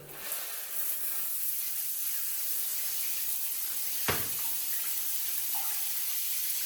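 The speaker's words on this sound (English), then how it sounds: "we'll run water through it and test for leaks" Steady hiss of water streaming from a newly installed 6-inch filtered shower head, constant and close, with a brief clunk partway through.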